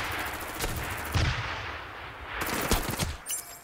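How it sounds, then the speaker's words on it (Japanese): Rapid gunfire bursts crackle in the video game Super Mecha Champions, two dense volleys with heavy low thumps and a brief gap between them, loud and close. "銃声が聞こえた。"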